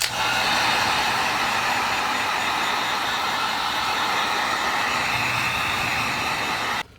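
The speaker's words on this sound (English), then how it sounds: "Now I'm going to go over the heat gun and then we'll see these lines stand out a bit more." A heat gun blowing steadily over an EVA foam cosplay helmet, a loud, continuous close-up roar of rushing air that holds for the whole stretch and cuts off abruptly at the end.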